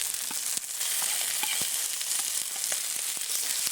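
Cumin and ginger paste fry in hot oil with a steady, close, crackling sizzle, broken by occasional sharp pops and spatters, with no voices.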